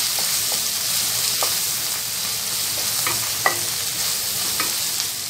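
Onions sautéing in a pan over a low flame, cooked alongside a Hindi-style aloo filling for dosa, give a steady soft sizzle with occasional light clicks of stirring throughout.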